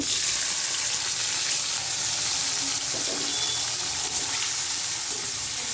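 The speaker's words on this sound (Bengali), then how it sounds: "এই আলু ভাজার তেলেই আমি দিয়ে দেব একটু কাঁচা পেঁয়াজ দেব" Raw onion hits hot oil left over from frying potatoes, giving a steady, even sizzle with a watery hiss that holds at a constant level throughout, with no voices.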